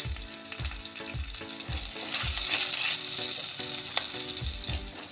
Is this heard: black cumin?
yes